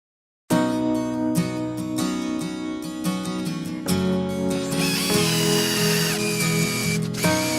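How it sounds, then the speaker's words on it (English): A power drill whines continuously at high speed, its pitch shifting as it bites into the base of a shed antler, loud and close after a brief silence. "drilling a hole in the base of the antler and inserting your little insert"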